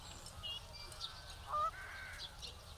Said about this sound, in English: Also some geese.